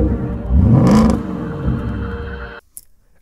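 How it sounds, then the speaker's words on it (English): A hydrogen-fueled V8 luxury SUV engine revs up briefly with a rising exhaust whine, then settles into a low rumbling idle before cutting off abruptly. "take a listen to this clip of the exhaust note"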